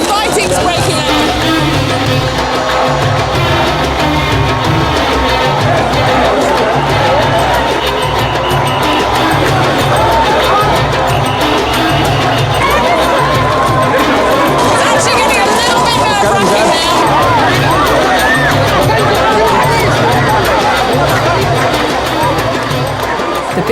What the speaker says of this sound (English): They're trying to control the crowd with a barrier here, but it looks like fighting's breaking out.